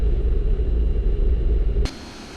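An airliner's jet engines rumble steadily on landing approach in a flight simulator, a loud, low, continuous drone that cuts off abruptly near the end. No one talks over it.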